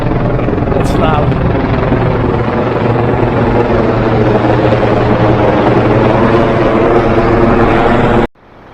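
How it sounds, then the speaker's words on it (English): A hospital helicopter landing near Hollywood Boulevard, its heavy, steady rotor thrum and engine roar dominating close by, continuous and loud before cutting off abruptly. "The helicopter is a hospital helicopter. Just landing."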